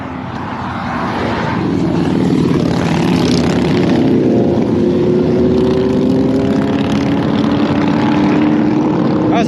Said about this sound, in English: That was a big group of motorcycles. They're very loud.